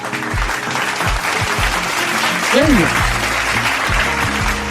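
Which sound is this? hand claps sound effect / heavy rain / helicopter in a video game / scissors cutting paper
hand claps sound effect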